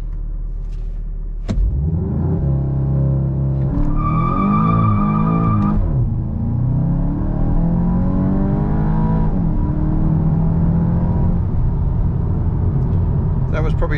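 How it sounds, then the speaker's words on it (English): A 2023 Volkswagen Golf GTI in manual mode pulls hard with its engine rising in pitch and dropping at early upshifts, loud and close from inside the cabin, with someone talking over it. "I'll put it in manual mode this time and I'll upshift a little bit earlier"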